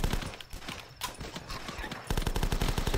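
Rapid gunshots from firearms aimed at zombies in the video game The Last Stand ring out in sharp repeated bursts, thickening into dense fast fire near the end, with game horse clip-clop and a voice in the mix.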